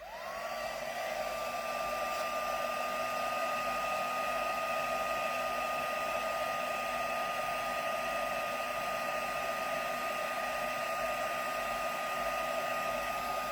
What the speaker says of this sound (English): Right, just going to heat set these 2 sentiments.